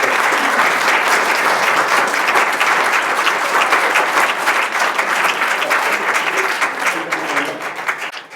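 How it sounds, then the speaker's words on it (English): A society conference audience breaks into a big, sustained round of applause, dense and even throughout before thinning slightly at the close. "A big round of applause"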